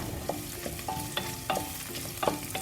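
Cashews and raisins fry in oil for coconut rice, a continuous low sizzle close by with several light scraping stirs and faint taps of a spoon against the pan.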